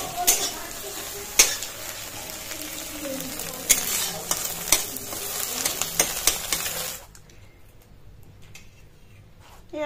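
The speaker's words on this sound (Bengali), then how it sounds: "মেয়ে ম্যাগি করছে, দেখো ম্যাগি রান্না করছে" Maggi noodles cook in a pan in a village kitchen, with sizzling and repeated metallic stirring scrapes and clinks for about seven seconds before the sound drops to a quiet hum.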